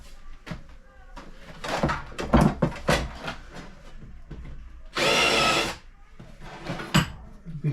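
A power drill cuts a small countersink dimple for a screw head in a wooden door, one steady broadband whir of about a second among scattered handling knocks and clatter in a workshop.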